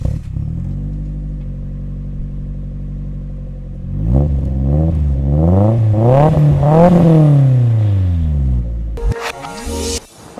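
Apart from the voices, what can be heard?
1995 Nissan S14 engine revving through exhaust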